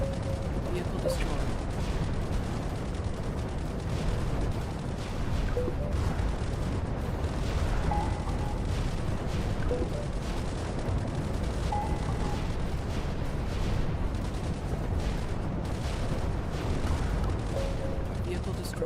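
Repeated explosions as vehicles are destroyed in ICBM: Escalation, a dense run of booms and crackling blasts over continuous low rumble, with an announcer voice calling out now and then.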